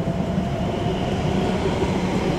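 A London Underground District Line train bound for Upminster pulls into Barking station, a steady, loud rumble of wheels and motors filling the whole stretch with no voices.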